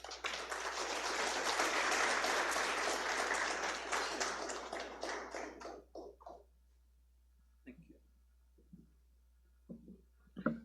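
Audience applause at a statistics research conference keynote, dense sustained clapping that builds and holds for about six seconds, then thins to a few scattered claps and faint room sounds.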